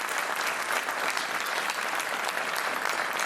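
A studio audience on the Portuguese game show Joker applauds, dense and continuous clapping at even loudness from start to finish, with no one speaking over it.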